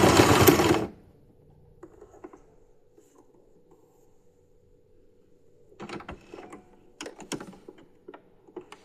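A sewing machine stitching fabric for a glove, heard as short bursts of quick mechanical clatter between stretches of near quiet, after a loud rustle at the start.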